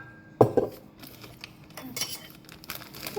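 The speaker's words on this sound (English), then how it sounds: "I should take this bowl out." A bowl is lifted out in a kitchen while making pancakes, a sharp clatter of dishes followed by a few lighter clinks and faint rustling, close by in a quiet room.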